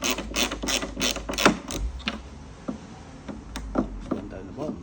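A T20 Torx driver ratchets as it loosens intake bolts on an MK5 GTI, giving quick clicking pawl bursts with short pauses and a few light knocks, close up, under occasional talk.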